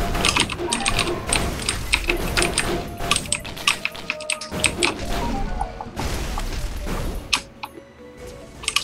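Rapid clattering keystrokes on a new keyboard, dense and close, with bursts and brief pauses throughout, over faint game sound.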